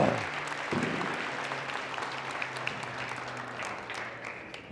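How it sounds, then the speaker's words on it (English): Audience at a football signing event applauding the signees and their families, a steady round of clapping from a crowd in a room, moderately loud and fading slightly toward the end. "give these guys and their families a round of applause"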